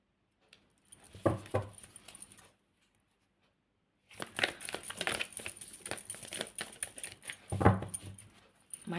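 Tarot cards are shuffled in a series of papery riffles and rustles, with a short burst, a pause of near silence, then a longer stretch of continuous card shuffling, all close and fairly quiet.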